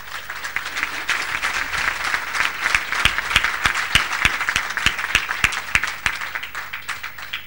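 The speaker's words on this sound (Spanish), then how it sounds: "Un aplauso, por favor." A debate audience breaks into sustained applause after a speaker finishes, a dense wash of many hands clapping with a few louder nearby claps standing out, steady for several seconds.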